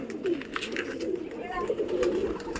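Pigeons in a loft coo in low, throaty, repeated bursts close by, with a person talking over them.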